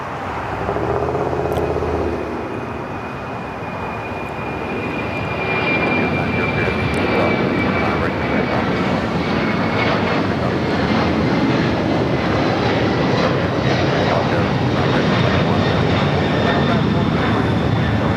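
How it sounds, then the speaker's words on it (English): A FedEx Boeing 767 takes off at LAX, its jet engines a loud, steady roar that builds and holds for the whole clip, with a faint high whine sliding downward early on. "That's FedEx 1650 taking off to Indianapolis on a 767 named Zareen."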